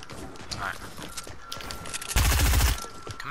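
Gunfire in a Fortnite match, scattered shots in the game followed by a loud burst of rapid fire, with a player talking over the sounds.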